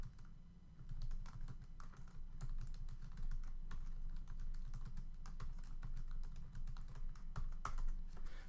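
Steady, fast typing on a Mac computer keyboard while writing code, with close, crisp key clicks in an uneven, continuous rhythm and no voices.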